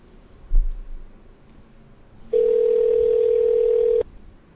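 A single steady electronic telephone tone sounds for under two seconds after a brief thump, then stops.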